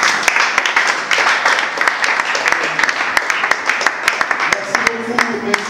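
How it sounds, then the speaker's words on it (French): An audience at a theatre association gathering applauds loudly, with a dense, sustained patter of many hands clapping and sharper individual claps standing out, and a faint voice near the end. "que je vous prie encore une fois d'applaudir très très fort"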